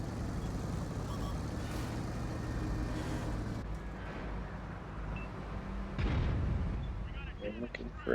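Tank cannon shots in a World of Tanks-style video game, with sharp booming blasts over continuous engine rumble and game background noise, a loud burst near the end, and a commentator talking throughout.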